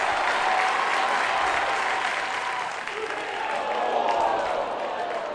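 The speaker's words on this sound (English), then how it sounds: "The cheering" Crowd cheering and clapping at a high school boys baseball state championship game, a steady dense wash of applause and cheers throughout, loud and continuous.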